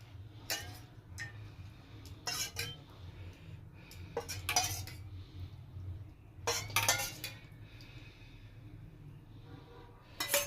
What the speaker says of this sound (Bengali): এবার ওপর থেকে গ্রেভিটা দিয়ে দিচ্ছি।